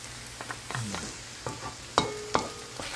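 Garlic hits a hot pan for kare-kare, giving a soft steady sizzle with several scraping stirs and a couple of sharp utensil clinks near the end.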